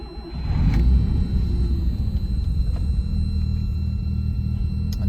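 A 1984 Mazda RX-7 rotary engine cold-starts and settles into a steady, deep, rumbling idle that stays close and continuous throughout.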